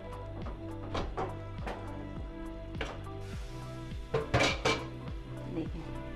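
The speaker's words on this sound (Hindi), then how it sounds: "दोबारा ओपन करते हैं और ये देखें इसकी गैस निकल जाए।" A pressure cooker holding aloo karahi is opened on a stove, with clinking and clanking metal close by and a short, louder burst of escaping steam partway through.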